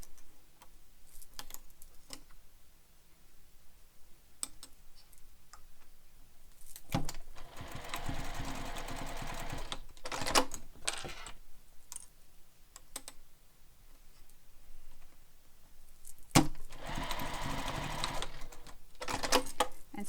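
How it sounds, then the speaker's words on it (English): A sewing machine basts the end of a Manhattan bag together, with two bursts of rapid mechanical stitching about three seconds long, plus scattered clicks and handling noises between them, quiet and nearby, with no talking. "Now I'm going to baste the end together."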